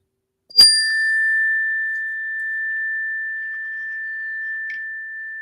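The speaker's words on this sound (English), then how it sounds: "at the sound of the bell" A single meditation bell is struck once and rings out alone, its clear pure tone sustaining and slowly fading over several seconds in a quiet room.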